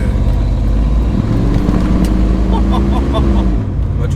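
Inside an American car with a 5.7-litre V8, a loud deep engine drone and road rumble fill the cabin, engine tones rising then easing off toward the end, with voices talking faintly beneath.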